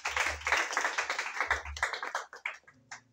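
A church congregation applauds together at the close of a worship service, a dense, steady round of clapping that thins into a few scattered claps and fades near the end.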